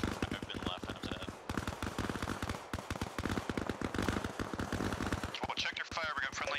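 Dense automatic and single gunshots crackle nonstop in the Arma Reforger video game, bursts overlapping in a rapid battle rhythm, with voices faintly mixed in.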